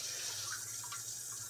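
A Brondell Swash CL1500 bidet sprays water in a faint, steady hiss, like a running tap, heard close in a quiet bathroom.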